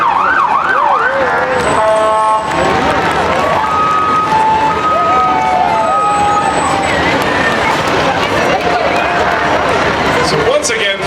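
Fire and EMS vehicle sirens wail and rise and fall continuously during a Fourth of July parade in Jackson Hole, Wyoming, loud and close, with someone talking over them throughout.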